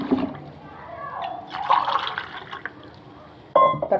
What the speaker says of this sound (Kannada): ನಾನು 3 ಗ್ಲಾಸ್ ನೀರು ಹಾಕ್ತೀನಿ